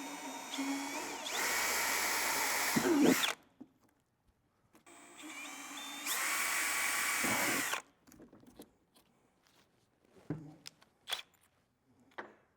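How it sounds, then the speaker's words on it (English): A power drill with an 11/64 bit whirs in two short bursts drilling small holes, each running a couple of seconds, followed by light clicks and handling noises. "Drill the 2 smaller holes."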